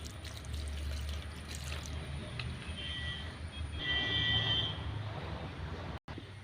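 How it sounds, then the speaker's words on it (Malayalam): Liquid pours steadily into a container, a continuous rushing splash over a low rumble, fairly close and even in loudness. "ഇത് പകുതി നമുക്കിതിലേക്ക് ഒഴിക്കാം"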